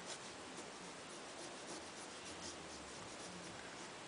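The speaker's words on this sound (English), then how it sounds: "it's okay to erase your mistakes if you need to" Steady, close rubbing and scratching of an eraser working across paper while correcting a drawing of a dog, continuous and even with no talk.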